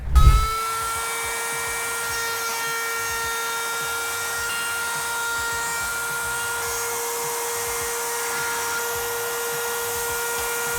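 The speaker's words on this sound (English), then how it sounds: "whenever I have to route something small, I prefer doing it on a router table, mostly for safety reasons" A router spinning up and cutting a small wooden piece on a router table for a wooden phone stand, a steady high-pitched whine with a strong tone, loud and continuous after a brief start-up thump, no talk.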